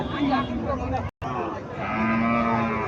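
Cattle low at a busy cattle market in Chandimura, Comilla, Bangladesh, two drawn-out moos rising above a constant crowd babble, with a brief dropout midway.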